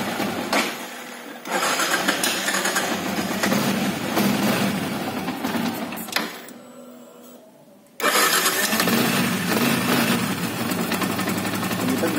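A Yamaha Vixion motorcycle engine from the 2017-on generation fires up and idles with a steady rumble, cuts out briefly, then starts again, close by.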